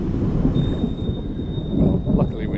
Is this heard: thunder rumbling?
yes